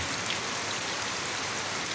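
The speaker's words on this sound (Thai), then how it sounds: "ฝนตก" Steady rain pours down, a dense continuous hiss of drops on surfaces with no voices.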